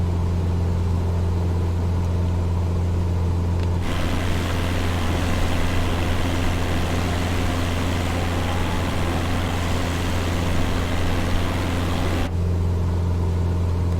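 A propeller plane in Microsoft Flight Simulator 2020, flying through clouds while picking up ice, gives a steady droning engine hum that holds at an even loudness for the whole stretch, with a slightly fuller middle section and no voice.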